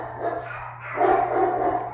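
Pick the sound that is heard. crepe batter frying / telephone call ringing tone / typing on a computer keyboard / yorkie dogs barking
yorkie dogs barking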